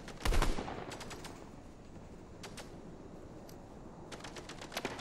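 Gunfire in Fortnite, with a loud nearby burst of rapid shots at the start followed by fainter, scattered volleys of quick shots in the distance.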